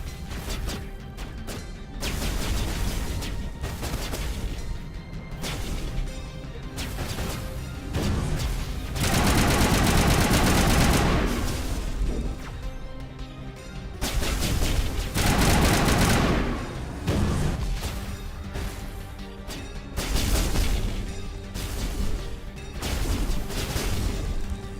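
Heavy bursts of gunfire from an enemy sniper in the video game Mass Effect, sustained volleys with loud crashing impacts and swooshes, dense and close throughout.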